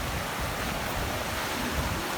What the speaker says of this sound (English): Look at the waves, holy cow.